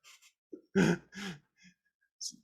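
A few short throat-clearing bursts and coughs, close and fairly loud, separated by brief pauses and soft breaths.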